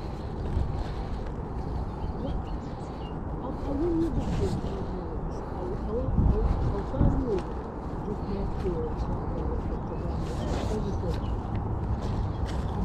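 At an overnight carp fishing lake, a person imitates bird calls with soft hooting, cooing sounds repeated a few times over a low, steady outdoor background rumble.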